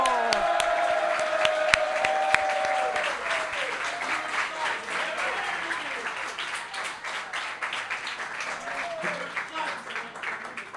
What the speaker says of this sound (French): on va faire un tonnerre d'applaudissements